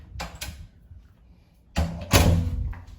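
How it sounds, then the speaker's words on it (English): A bathroom sliding door in a hotel room at the El Conquistador Resort in Fajardo, Puerto Rico, gives two close, loud bursts of rumbling, scraping movement in quick succession after a quieter stretch, with faint knocks earlier on. "The door slides. Yeah, it kind of messed up at first, but it slides."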